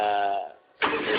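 A machine from a power equipment product is started: a steady droning engine cuts out into a brief near-silence, then catches again with a loud, rough roar, close and with no talk.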